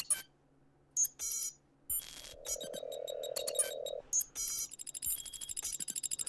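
Electronic terminal beeps and chirps from the game Starmancer sound in short bursts, with a sustained tone in the middle and a fast run of rapid blips at the end.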